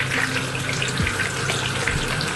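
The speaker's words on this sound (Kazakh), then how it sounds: "Бірінші қызып тұрған майда пиязымызды жақсылап қуырып аламыз" Onions fry in hot oil for shah plov, a steady close-up sizzle at moderate volume with no voices.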